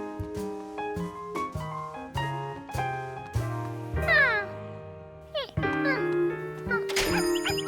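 Cartoon cat meowing repeatedly in short, clear calls over a bed of light music, with bright chirpy sound effects toward the end.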